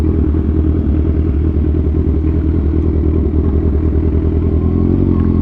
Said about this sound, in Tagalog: Pero may tricycle at saka motor eh.